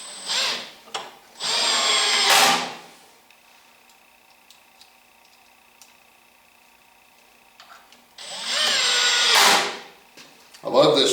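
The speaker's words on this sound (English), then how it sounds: "I love this drill because during the operation you see that battery indicator" A cordless drill drives screws into a wooden reloading bench in two loud, close bursts of whirring a few seconds each, separated by a quiet pause with faint ticks and clicks.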